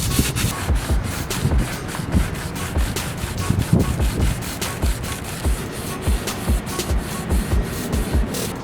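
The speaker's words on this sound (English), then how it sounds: "With a flat piece of sanding sponge, you just go over it and it'll help keep everything nice and even." A flat sanding sponge is rubbed back and forth over a painted car body panel during bodywork prep, giving a steady, close scratchy rasp with rhythmic strokes and no talking.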